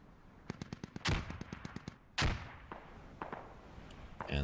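Squad video game combat: a rapid string of sharp gunshots, two heavy grenade blasts about a second apart, then scattered distant rifle fire, all without talk.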